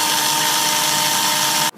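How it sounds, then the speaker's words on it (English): Electric power drill boring a hole for the fuse of a mini rocket, a steady high whine held at constant pitch for nearly two seconds, close and loud, cutting off abruptly at the end. "we're going to go ahead and use a nail and a drill, electric drill, power drill"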